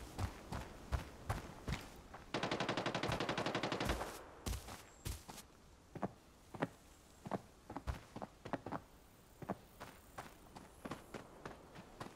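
Gunfire in the video game Arena Breakout: scattered single shots and a sustained rapid automatic burst, mixed with running footsteps, all fairly quiet.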